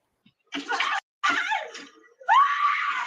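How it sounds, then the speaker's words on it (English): A woman screams in three sharp, raw bursts during a violent early-morning attack, the last cry longest and rising, loud and close with short silences between. "We now know the source of the screams early Thursday morning."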